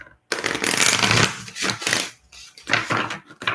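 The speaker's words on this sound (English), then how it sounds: "Didn't want to shuffle all the way through that." Oracle cards are shuffled close up in several loud riffling bursts, each a rapid papery flutter, separated by brief pauses.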